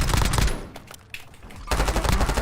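Sustained automatic weapon fire in Call of Duty: Warzone: a dense, loud burst, a brief lull with scattered faint clatter, then a second heavy volley of rapid shots.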